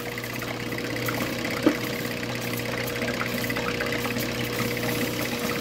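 Lapidary polishing wheels run while polishing epidote, giving a steady, even machine hum with a faint watery wash, with one small knock partway through and no talking.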